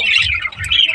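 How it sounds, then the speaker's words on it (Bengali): Small pet birds kept at home give quick, bright chirps and squeaky calls, close by and fairly loud in a short burst, with no one speaking. "ছোট্ট ছোট্ট পাখিগুলো"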